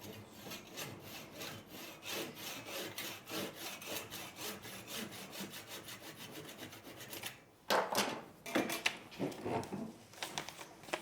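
A handsaw cuts through wood with steady back-and-forth strokes, ending in a few louder rasping strokes as the piece comes off.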